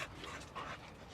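A pit bull type dog pants in quick, breathy bursts, fairly close and soft, with a faint whimper mixed in and no voices.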